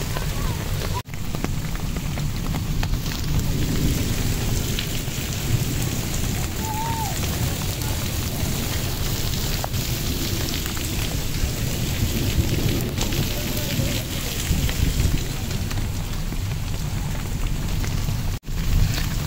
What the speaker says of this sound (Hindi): बहुत बारिश हो गई है